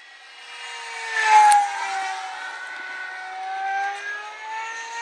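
A Great Planes Rifle RC pylon racer plane flies fast overhead, its high-pitched electric motor whine sliding steadily downward in pitch as it passes, swelling briefly loud near the start and then holding a continuous, moderately distant drone.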